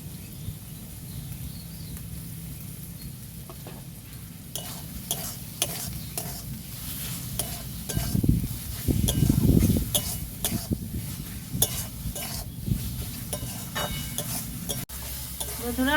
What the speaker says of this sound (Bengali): আমি ভালো করে মশলাটাকে কষিয়ে নিয়েছি